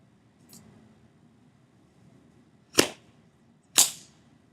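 A toy popper goes off twice, about a second apart, each a sharp loud crack in near silence, with a faint softer pop before them.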